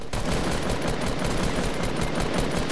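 Dense, continuous automatic assault rifle fire in the Fortnite video game, a loud rapid rattle of shots sustained without pause across the whole moment.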